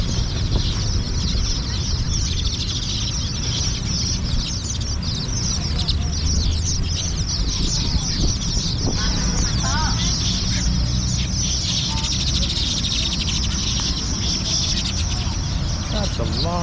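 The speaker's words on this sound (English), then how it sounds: "That's a lot of birds." Many caged chickens and other birds cluck and call together in a crowded market in Phnom Penh, a dense continuous chorus with a voice talking over it.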